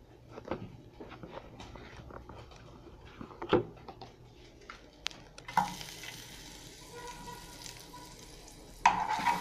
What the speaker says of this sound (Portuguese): No restinho do suco da carne que ficou aqui, nós vamos botar uma colherinha de manteiga.